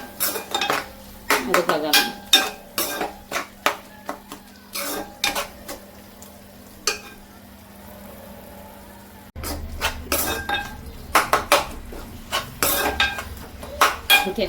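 Utensil clinks and scrapes from stirring onions and garlic sautéing with a little water in a pan, irregular metallic taps close by, with a brief spoken word.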